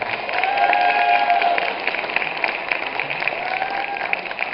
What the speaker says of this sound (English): Round of applause for Danielle Hartman